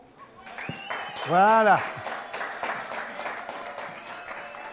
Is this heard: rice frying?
no